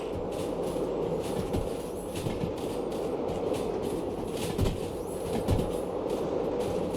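A long train rolls along in the Derail Valley simulation, with a steady rumbling drone broken by irregular clunks and rattling clicks of the cars, continuous and fairly loud with no talk.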